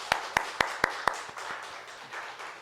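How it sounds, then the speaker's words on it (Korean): At a Wednesday church prayer service, about five sharp, evenly spaced claps ring out close by, then fade into a softer, scattered patter before trailing off. "우리 감사의 박수 한번 올리십시다"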